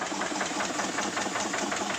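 An engine mounted in a jeep idles just after starting, giving a steady, even mechanical drone with a faint rhythmic knock, close and uninterrupted.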